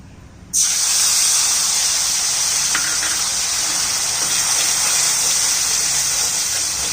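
Poppy seed paste hits hot oil left from frying fish and bursts into a loud, sudden sizzle that holds as a steady, close hiss for several seconds.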